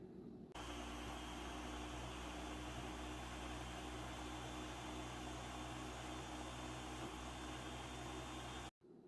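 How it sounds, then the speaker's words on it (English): A blender whirs steadily, blending pumpkin with almond oil into a creamy puree; a loud, continuous motor drone with broadband whoosh runs nearly the whole time, then cuts off abruptly near the end. "And then we are just going to blend it."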